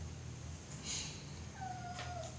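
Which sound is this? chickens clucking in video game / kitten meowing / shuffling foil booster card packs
kitten meowing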